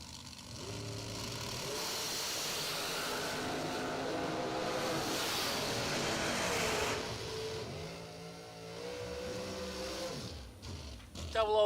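Two drag race cars launch side by side down the left and right lanes, a loud continuous engine roar lasting several seconds before fading into rising and falling revs, with an announcer talking over it.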